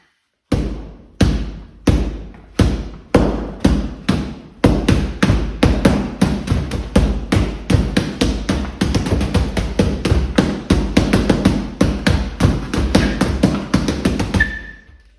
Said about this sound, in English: This is simply a bag of sand, solid brick wall behind it